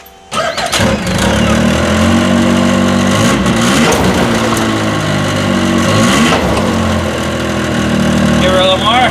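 A modified radar sled cranks and starts, then its engine runs loud and rough with surging revs as the tracks spin, close by and continuous after a brief quiet opening.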